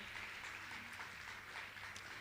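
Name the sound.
audience applause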